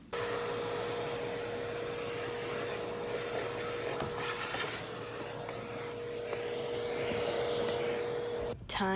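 Vacuum cleaner sucking fruit flies out of a flat during a deep clean for a mice and insect infestation; a continuous close whine with a steady tone, moved slowly, that cuts off abruptly at the end.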